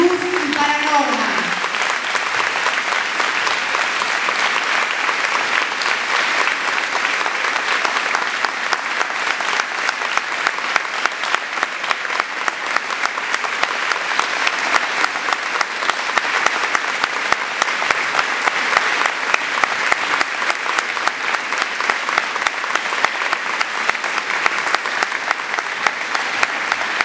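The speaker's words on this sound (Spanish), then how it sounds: "que le demos, digamos, una aclamación con un aplauso" Sustained, loud applause from the audience at a teachers' union assembly in Buenos Aires fills the hall. It starts after a few spoken words and continues steadily for nearly half a minute.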